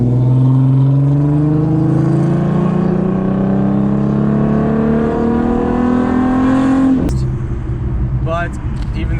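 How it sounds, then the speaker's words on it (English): Loud car exhaust held in first gear with an idle chop mod, a rising throaty drone that climbs steadily in pitch before cutting off abruptly, followed by lighter crackling engine sound. "I had it in first gear because I wanted to see how it would perform, and so the exhaust was loud."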